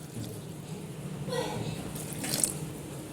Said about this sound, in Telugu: ఇప్పుడు ఈ కాలీఫ్లవర్ మునిగేనంటూ నీళ్లు పోయాలి.